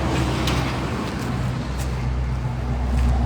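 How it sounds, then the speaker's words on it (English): Downtown street traffic on Main Street in Marion, South Carolina: a steady, loud rumble of passing cars and heavier vehicles close by, with low engine drone and swells of tyre noise, no talking heard. "Apologize for the traffic sound, but it simply can't be helped."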